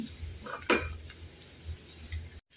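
Garlic frying in hot olive oil in a pan, a soft steady sizzle throughout with a brief clink of a utensil near the start.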